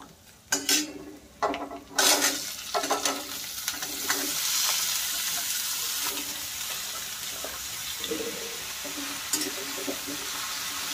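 Red pumpkin pieces tipped into a hot pan, opening with a few sharp clatters and bursts of sizzle, then a steady loud frying hiss. Light utensil knocks come and go over it, and no one speaks.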